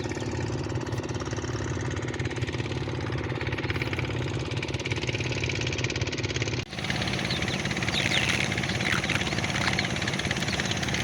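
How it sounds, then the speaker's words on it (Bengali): Shallow engine pump running at night to pull sand up through pipes at an illegal riverbank extraction site, a loud, constant throbbing engine drone with rapid pulsing, steady throughout with no talk. "রাতে সমান তালে এই শ্যালো মেশিন দিয়ে বালু উত্তোলন হচ্ছে।"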